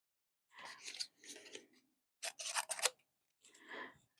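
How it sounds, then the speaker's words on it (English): Scissors trimming scrapbooking paper pieces, close and quiet: four separate crisp snipping cuts, each a short run of blade scrapes, spaced by brief silences. "I am going to trim these down."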